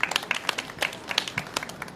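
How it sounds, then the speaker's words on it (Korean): An audience at an outdoor candlelight rally against the THAAD deployment in Gimcheon claps in a dense, even patter of applause. "큰 박수 부탁드리겠습니다."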